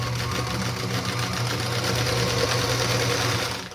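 A Singer Featherweight sewing machine stitching steadily with painter's tape on its bed, a continuous close mechanical whir with a fast even needle rhythm that runs unbroken for several seconds.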